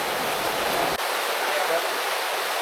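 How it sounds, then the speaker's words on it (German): Steady rain pours down outdoors, a loud, dense hiss of water that runs continuously, with a brief dip just before the midpoint. "Jetzt hat der Regen leicht nachgelassen"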